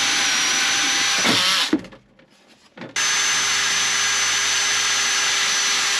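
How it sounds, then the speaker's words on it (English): A power drill whirs loudly and steadily while drilling a mounting hole for a seat in a VW Passat, stops briefly to near silence, then starts again at full speed and runs on. "we drill the hole in the first place in the right area"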